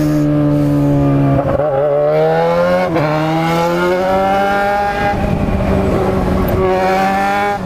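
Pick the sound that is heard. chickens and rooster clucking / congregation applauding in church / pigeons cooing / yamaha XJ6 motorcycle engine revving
yamaha XJ6 motorcycle engine revving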